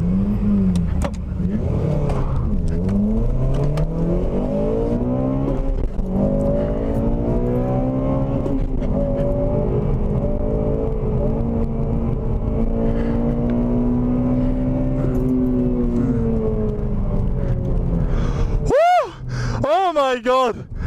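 A car launches on a race track at a Japfest event and accelerates hard, its engine revving up through rising pitch and gear changes, loud and close from inside the car, with a voice speaking over it.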